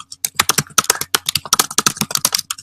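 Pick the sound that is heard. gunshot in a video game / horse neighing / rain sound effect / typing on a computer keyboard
typing on a computer keyboard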